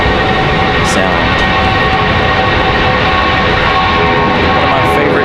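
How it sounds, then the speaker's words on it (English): An Airbus A319 jet departing from Raleigh-Durham International Airport, producing a loud, dense, continuous engine roar with a rasping buzzsaw tone that holds steady throughout, heard from a plane-spotting position nearby. "Good sounding departure out of the A319. Nice buzzsaw"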